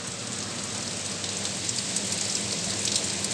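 Heavy rain pouring down onto concrete and grass, a dense, continuous hiss of drops and splashes, close and steady throughout with no voices.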